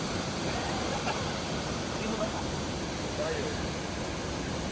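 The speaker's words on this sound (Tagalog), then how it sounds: "May waterfalls yan." A waterfall in Norway gives a steady, dense rushing roar with no breaks, loud and close throughout.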